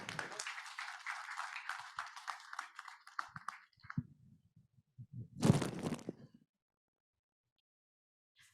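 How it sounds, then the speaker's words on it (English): Audience applause at a partnership celebration event in Mumbai, a dense patter of many hands clapping that fades out, followed by a few thumps and a short closer burst of noise before silence. "a big round of applause, everyone"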